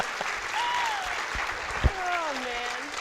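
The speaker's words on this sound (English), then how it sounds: "Let's give Diamond a round of applause" An audience at a teen town hall applauds for Diamond, steady clapping with a few voices calling out over it and a sharp thump partway through.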